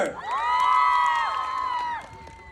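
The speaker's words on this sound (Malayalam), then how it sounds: "ഒരു വലിയ കയ്യടി കൊടുക്ക്" A large crowd cheers and whoops for the actor, shrill voices swelling into a loud, sustained roar that drops off after about two seconds.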